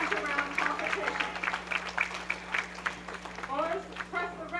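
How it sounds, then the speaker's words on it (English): Audience applause at a junior bowling championship tournament, a steady wash of clapping from a crowd mixed with talking voices throughout. "let's give these fine athletes a round of applause as they begin their dance-around competition"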